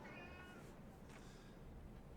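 A house cat meows faintly from a distance, two soft calls over a low background hum.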